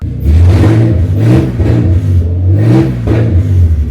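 A Nissan 350Z engine with no exhaust, just started after years unused, revs repeatedly in loud, rising and falling surges, harsh and unmuffled, close by with no voices.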